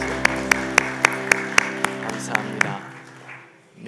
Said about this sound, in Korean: 우리 하나님 영광의 박수 드리죠.